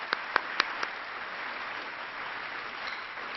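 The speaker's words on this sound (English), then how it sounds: "can you stand up if you're in the audience so we can give you a round of applause?" Audience applause for a student named Roger at a Michelle Obama education speech, a steady wash of clapping from a large crowd, preceded by a few sharp, louder claps near the start.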